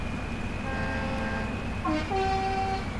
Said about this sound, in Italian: Guarda, il clacson butta giù la barriera.